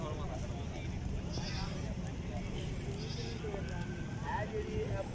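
Dairy goats bleat repeatedly at a busy outdoor livestock market in Shahpur Kanjra, their calls rising now and then over a constant murmur of crowd noise while someone talks nearby.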